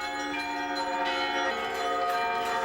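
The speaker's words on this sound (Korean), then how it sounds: "매일 우크라이나의 수도 키예프는 감미로운 종소리에 젖는다." Many church bells of differing sizes ring together in Kyiv, a dense, sustained wash of overlapping tones that stays steady and loud with no voices.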